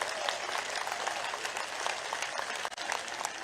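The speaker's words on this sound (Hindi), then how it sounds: "तो एक बार तालियों के गड़गड़ाहट से स्वागत कर दीजिए।" A rally audience breaks into sustained applause, a dense crackle of many hands clapping continuously at moderate distance, with a brief dip near the end.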